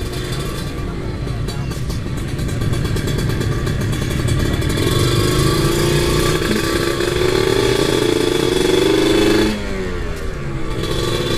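A 2015 Kawasaki Ninja RR motorcycle engine runs loud and close, its pitch climbing steadily as it revs up, then dropping sharply near the end before settling again.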